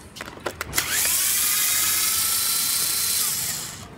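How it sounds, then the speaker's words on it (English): A power tool driving a T25 Torx bit backs out the stock speaker screws on a Harley-Davidson Street Glide, a steady high-pitched whine running for about three seconds after a few short taps and bursts, with no talking. "Using a T25 Torx bit, remove the stock speaker"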